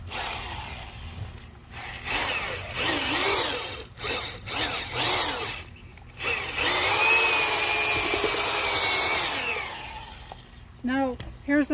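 A power auger bores at an angle into heavy clay soil under a fence, loud grinding whirs that start and stop in uneven bursts before a long sustained drilling run, with a person's voice heard at times.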